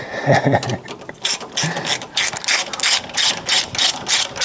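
Ratchet wrench turning a 1/2 inch socket on a differential, giving quick repeated clicking pawl strokes in uneven bursts, close and fairly loud with no talk.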